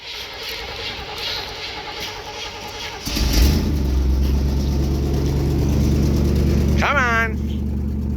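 A 1971 Chevy C10 pickup cranks hard on a cold start, the starter grinding before the engine catches at about three seconds and settles into a loud, steady idle. Excited voices call out over the running engine.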